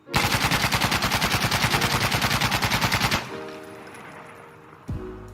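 Mk17 rifle from the shooter game Insurgency: Sandstorm, with a 30-round magazine and no attachments, fires a loud rapid burst of about thirty evenly spaced shots for three seconds, then a ringing tail and one faint clack near the end.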